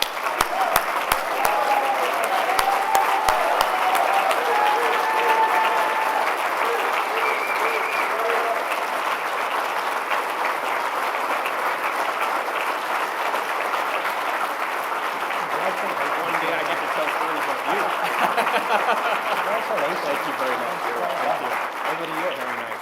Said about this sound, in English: please join me in a big round of applause for United Way of the Lower Mainland